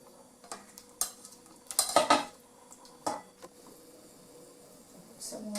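Serving pork adobo onto a plate brings scattered utensil clinks and scrapes against dishware, close and fairly quiet, with a cluster of clattering strikes in the middle and a few isolated taps around it.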